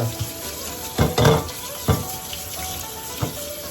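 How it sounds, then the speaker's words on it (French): Bamboo shoots rinsed under a cold kitchen tap make a steady running-water hiss, with a few louder splashy bursts as the shoots are moved under the stream. "on va tout de suite les rincer avec de l'eau froide"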